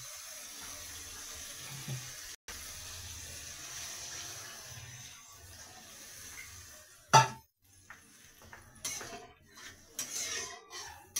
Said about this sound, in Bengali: এবার আমি আগে থেকে গরম জল করে রেখেছিলাম মাছের জন্য, ওটা দিয়ে দিই।